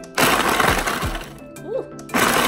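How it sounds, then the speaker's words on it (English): A blender pulses cookies into crumbs: a loud, close burst of motor whir and rattling chop that stops abruptly and then starts again, with no voices over it. "We're gonna pulse these cookies. Pulse them on down."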